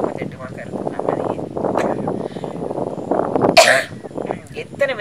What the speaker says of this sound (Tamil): எனக்கு இருமலான உடல் வாக்கு கிடையாது, எனக்கே இருமல் வருது